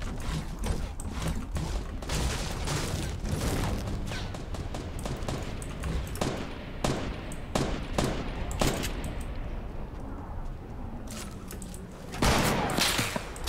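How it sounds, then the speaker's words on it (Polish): Rapid gunfire from the video game Fortnite crackles in dense bursts and single shots throughout, with a short lull near the end before another heavy volley, loud against a busy game background. "Wow, ktoś strzela do mnie."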